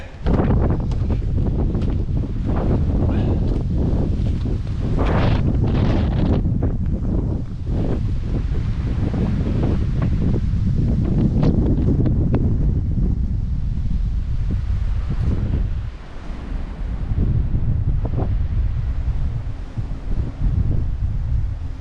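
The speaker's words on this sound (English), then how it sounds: "It's a little windy, you guys." Strong wind buffets the microphone in loud, continuous roaring gusts above Williston Lake, easing briefly before surging again.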